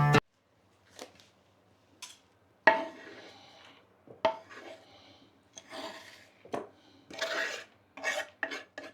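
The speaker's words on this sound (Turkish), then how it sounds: "Maydanozları doğradık." Intermittent chopping of parsley with a knife on a board, a few sharp knocks followed by quicker bursts of scraping and cutting, close and fairly quiet.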